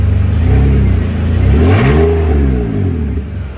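A BMW E46 engine with no exhaust fitted, only catalytic converters, revs up and back down in a rising and falling roar, with a gruff, unmuffled tone.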